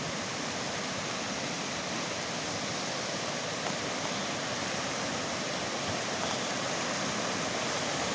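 Swollen river running high after heavy rain in Shasta County, a continuous broad rushing roar of water, steady and even throughout with no voices.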